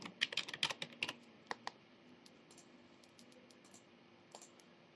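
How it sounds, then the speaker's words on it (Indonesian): Keystrokes on a computer keyboard, a quick burst of clicks in the first two seconds followed by a few scattered taps, close and fairly quiet with no talking. "Saya ketik."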